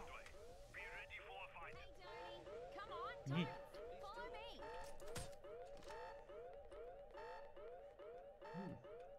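A wailing alarm siren from the heist video game Payday 2 cycles steadily throughout, rising and falling in repeated sweeps, with gunfire, game chatter and voices mixed in over it.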